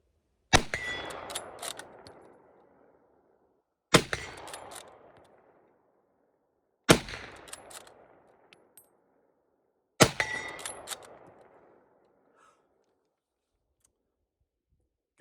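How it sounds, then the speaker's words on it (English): Four loud rifle shots from Springfield and Enfield rifles at an outdoor range, each a sharp crack with a short rolling tail, spaced about three seconds apart with quiet between. "we got 8 more shots, and here we go"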